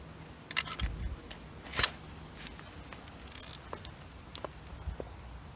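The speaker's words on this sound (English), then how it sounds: "The next step is to dig a little trench all the way around the plant to cut the roots." A spade digging a trench around an abelia bush to sever its roots, with scattered crunching and snipping sounds, a few sharp clicks and crackles of cut roots and soil over light background noise.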